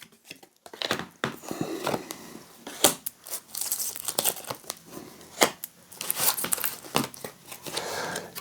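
Tarot cards shuffled and handled for a second spread, giving close, crisp crinkling and flicking bursts with sharp slaps and rustles in an irregular rhythm, no talking.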